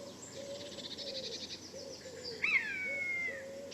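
Buzzards calling over farmland, a clear rising-falling mewing cry about halfway through, with softer bird chirps from blue tits and other birds in the background before it.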